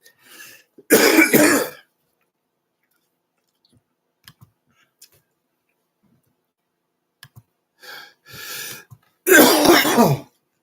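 Two loud bursts of coughing, close to the microphone, separated by a quiet stretch with a few small clicks and a throat-clearing sound.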